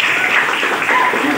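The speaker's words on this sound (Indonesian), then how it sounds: "Tepuk tangan dulu untuk Sarah." An audience at a digital literacy and social media session applauds a student named Sarah, a steady, dense wash of clapping with no voices over it.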